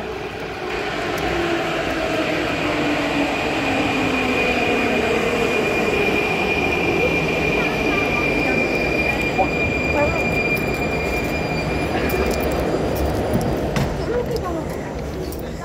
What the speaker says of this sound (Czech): Metro nám jede.